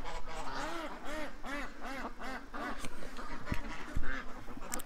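Ducks and geese quacking and honking close by at a feeding spot, a dense overlapping chorus of repeated nasal calls with a few sharp knocks mixed in.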